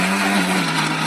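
A mixer grinder whirs continuously while blending drumstick karappodi spice powder, a loud, steady motor drone with a churning, gritty texture and no pauses.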